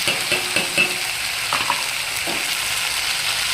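Spice masala with Kashmiri chili powder sizzles steadily in a pan, with a few scraping stir strokes near the start, close and alone without any talk.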